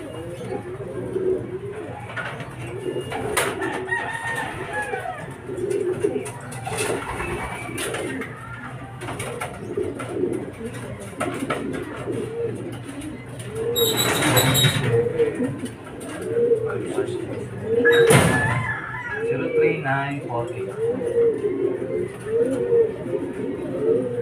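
Racing pigeons arriving at a loft during a derby coo steadily and softly throughout, with wing flutters and a few sharper calls, as someone talks quietly in the background.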